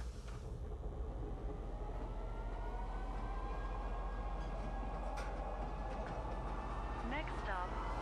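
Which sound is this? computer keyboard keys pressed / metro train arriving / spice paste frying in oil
metro train arriving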